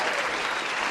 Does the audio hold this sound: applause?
yes